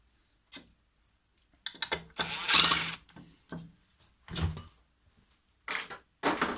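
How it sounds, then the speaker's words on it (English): Metal faceplate being loosened and removed from a woodturning lathe after turning a shallow pine bowl, heard as a series of close, irregular clunks, knocks and scraping bursts separated by short silences. "Next step now is we're going to need to take the faceplate off."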